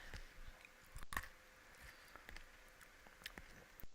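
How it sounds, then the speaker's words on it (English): Close, intermittent crunching and chewing of spicy snack food, a few sharp bites standing out against quiet, sparse mouth sounds with no voices. "Like I said, I apologize for the crunching, guys."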